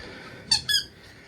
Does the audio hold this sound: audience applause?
no